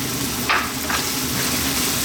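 Brown stew chicken simmers and sizzles in a pot over a fairly lively heat, a steady close crackle with a brief scrape of stirring.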